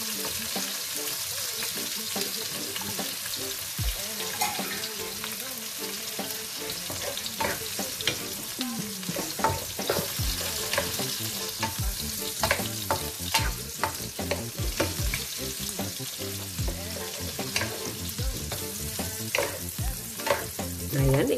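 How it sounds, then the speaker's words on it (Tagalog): Tomatoes and garlic sauté in a pan with a continuous gentle sizzle and repeated scraping, clinking stirs of a utensil against the metal, close and steady throughout. "Ayan, igisanang po natin ng konti. Para medyo maluto po yung kamatis"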